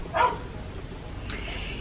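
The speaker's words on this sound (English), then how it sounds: "And y'all already know the dogs are barking in the background." A dog barks once in the background, a short distant woof, and after a pause comes a brief higher yelp or whine.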